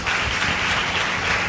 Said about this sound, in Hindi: सारी गवाहियों के लिए एक बार ताली बजाएं जरा जोर से।